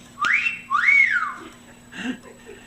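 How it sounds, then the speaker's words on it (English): A cell phone gives a whistle notification tone: two quick sliding whistles, close and clear, followed by a faint muffled sound in a quiet room. "That little whistle was my cell phone"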